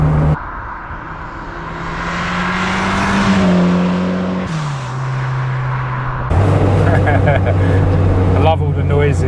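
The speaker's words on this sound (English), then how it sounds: "I love all the noises, turbo noises." Turbocharged 340 bhp Ford Cortina driving on a road, its engine droning and rising in pitch under acceleration, then dropping and surging again, heard up close from inside with people talking over it.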